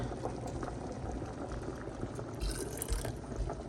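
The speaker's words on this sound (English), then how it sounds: "get some of that water, and pour it in there." Water poured with a spoonula into a pan while making spaghetti, a close bubbling, splashing trickle of liquid with no talk.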